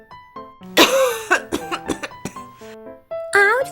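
Exaggerated hard coughing by a voice reading a children's Halloween story aloud, a run of loud harsh bursts with throaty catches and wheezy breaths between, close and animated; the voice imitates the sound.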